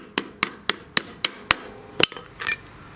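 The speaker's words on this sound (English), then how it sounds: "So I'm just going to tap it in with a brass hammer." A brass hammer taps a key into a wheel shaft six times at a steady rhythm, sharp and close, followed by a couple of quicker lighter knocks.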